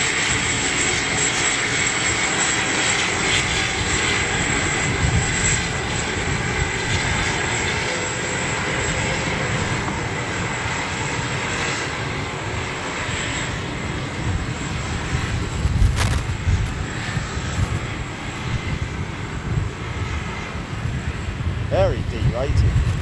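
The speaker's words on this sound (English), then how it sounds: "APU making a lovely noise" An airliner's APU running at London Gatwick, giving a loud, steady, close roar with a high whine on top that holds unchanged throughout, with faint talk mixed beneath it.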